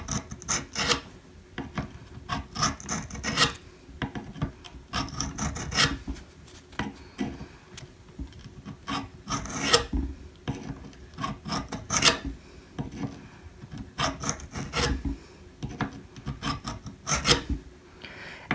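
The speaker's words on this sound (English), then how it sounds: "Now, the more passes you make, the sharper your blade will be." Garden pruner blade drawn across a sharpening stone, repeated rasping strokes in an uneven rhythm, close and moderately quiet, alone without talk.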